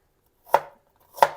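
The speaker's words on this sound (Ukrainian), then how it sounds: "Нарізаю цибульку." Two sharp knife chops through a small onion on a cutting board, spaced apart, close and clear against silence.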